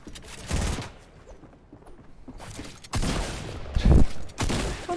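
Bursts of rapid submachine-gun fire from a P90 in Fortnite crackle and rattle in several volleys, with a short lull between them and heavy, dense firing toward the end, loud and close.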